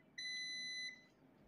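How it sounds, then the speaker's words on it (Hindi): Continuity tester beeping as its probes touch points on an EDC17C55 engine control module board from a Tata truck under short-circuit repair; one steady, clear electronic tone lasting under a second, alone over faint room hum. "जैसे हम यहाँ प्रोब लगाते हैं और यहाँ चेक करते हैं तो बीप बज रही है"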